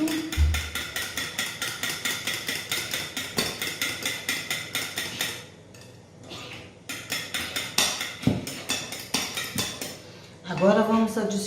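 Six egg yolks are beaten in a bowl for a biscuit dough, giving a fast, regular clatter of a utensil striking the bowl that pauses briefly, resumes, and ends with a short spoken remark.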